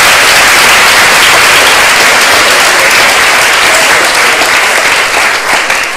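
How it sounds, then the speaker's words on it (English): Loud, sustained applause fills the room from an audience at a comedy debate, a thick unbroken wash of clapping that stays powerful throughout before easing slightly at the close. "So if we can get a round of applause for David"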